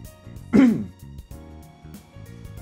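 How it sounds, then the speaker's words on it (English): A single harsh throat clearing from a man streaming a Persona 3 Reload playthrough, loud and close, followed by quieter murmuring sounds. "Pardon me if I'm clearing my throat."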